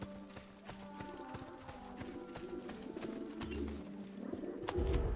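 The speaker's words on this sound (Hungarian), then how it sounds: "Hallottam a madár búgást" Pigeons coo within the game world of Assassin's Creed Brotherhood, soft repeated bird calls set in a busy ambient bed of footsteps and running noise that grows louder toward the end.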